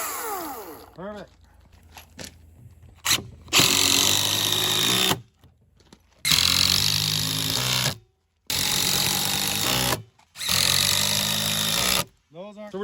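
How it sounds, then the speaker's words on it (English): A power drill whirs in several loud bursts separated by short pauses, biting into wood with a gritty, grinding edge; a voice is heard briefly at the start. "So we're just gonna drill"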